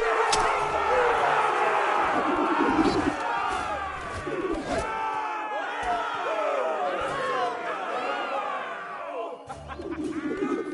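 An arena crowd in a video game roars and shouts in waves, mixed with layered voices and battle cries, loud and continuous with brief dips.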